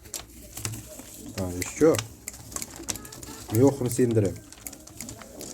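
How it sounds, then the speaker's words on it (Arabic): Khenisi pigeons coo in a shop, two rolling bursts close by, while someone speaks over them. "هانتوما حمام هايج تبارك الله"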